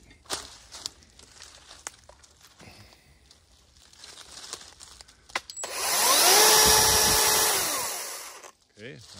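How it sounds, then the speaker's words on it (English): An ATLAS 80V brushless cordless pole saw follows a few seconds of rustling and handling noise. The motor spins up to a fairly quiet, steady whirring hum for about three seconds, then winds down and stops. "I'm going to turn it on just to show you what it sounds like."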